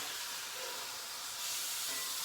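Meat searing in a hot pan for a pot roast, a steady broad hiss of sizzling fat, close and even, growing slightly louder partway through with no talk over it.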